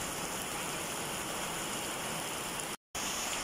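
Steady, dense hiss of heavy rain pouring down, continuous and close, with a brief dropout near the end.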